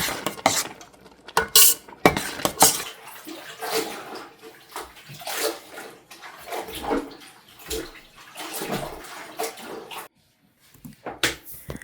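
A stained new shirt washed by hand in water, with repeated sloshing splashes and wet rubbing in irregular bursts, close and fairly loud, pausing briefly near the end.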